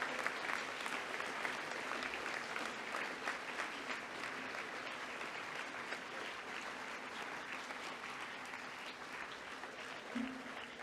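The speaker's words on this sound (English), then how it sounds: "Can you please give our special guests a round of applause?" Audience of boys applauding guests at a school assembly, a dense, steady wash of clapping filling the room for about ten seconds, moderately loud and without talk.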